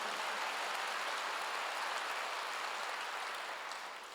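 A church congregation claps in a steady, dense wash of applause that holds evenly from start to finish and tapers slightly at the end, with no voices heard.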